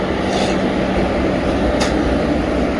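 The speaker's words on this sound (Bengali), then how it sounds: "আর এই যে ট্রেনটা যাচ্ছে" A train headed for Azimganj rumbles past nearby, a steady broadband roar filling the whole stretch with brief brighter screeches, no talk over it.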